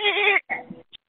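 A goat gives one wavering, nasal bleat, followed by two shorter broken cries, close and fairly loud, with no talk over it.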